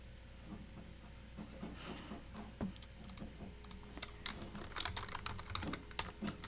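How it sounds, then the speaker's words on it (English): Steady typing on a computer keyboard, quiet and fairly close, with irregular clusters of key clicks over a faint hiss and low hum, no talking. "you can hear the keyboard"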